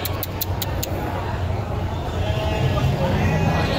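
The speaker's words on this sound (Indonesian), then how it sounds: "Ini domba warna ribbon teman-teman." Sheep bleating at a livestock market in Tanjungsari, Sumedang, a few quick bleats at the start over steady crowd and market noise, with a person talking nearby.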